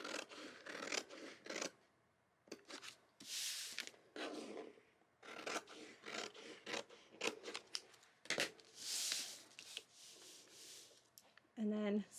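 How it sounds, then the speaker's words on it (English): Scissors cut a paper sewing pattern from the notch, making repeated close snips and crisp rustling paper under intermittent speech. "So I'm cutting from my notch."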